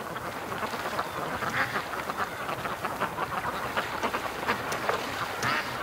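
Ducks quack in agitated, overlapping calls outdoors in rain, a steady wet hiss running beneath the irregular bursts of calls throughout.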